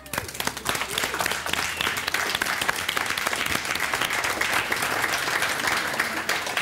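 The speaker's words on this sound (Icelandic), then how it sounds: "Gefum okkur gott klapp hérna." Studio audience at an Icelandic televised charity evening breaks into sustained applause, a dense, even roar of many hands clapping that holds steady from start to finish.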